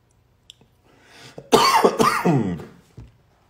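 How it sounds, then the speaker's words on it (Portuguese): A man gives a few rough coughs and clears his throat, close and loud, with a brief harsh burst in the middle and faint breaths before and after. "De repente me deu uma tosse."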